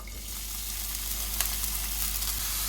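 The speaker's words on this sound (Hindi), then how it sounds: "एक पैन ले लेंगे, इसमें 1 चम्मच घी ऐड करेंगे, प्याज ऐड कर देंगे।" Chopped onion sizzles steadily in a spoonful of hot ghee in a pan, a continuous close frying hiss with small crackles and a low background hum, no one talking.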